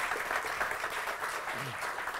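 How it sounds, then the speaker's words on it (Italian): Audience applause at an Odoo Italia association event honoring Davide Speranza, a steady wash of many hands clapping throughout, fairly loud and continuous with a faint voice briefly under it. "noi dell'Associazione Odoo Italia non possiamo che fare un bellissimo applauso a Odoo"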